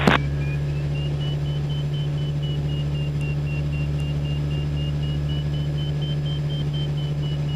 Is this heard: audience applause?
no